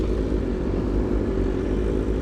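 A BMW S1000RR sport motorcycle fitted with a new exhaust drones with a steady, dense engine rumble at close range, unbroken and without voices.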